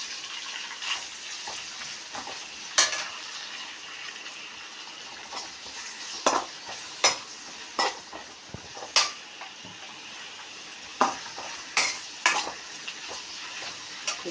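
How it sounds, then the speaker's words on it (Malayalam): Chopped onion and curry leaves frying in a pan for egg curry, a steady broadband sizzle with sharp scraping stirs and clinks of the spoon recurring every second or so, close and moderately loud, no voices. "പിന്നെ ഒരു സബോള ചെറുതായി അരിഞ്ഞതും കുറച്ച് വേപ്പിൻ്റെ ഇലയും. നമുക്കിത് നന്നായിട്ട് ഫ്രൈ ആക്കണം."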